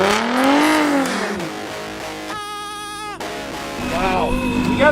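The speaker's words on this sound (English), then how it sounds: "Warming some tires, guys." A V6 car revs hard while spinning its tires to warm them before a launch, the engine note climbing and falling in sweeps with a strained, squealing tone, close and loud, with voices over the top.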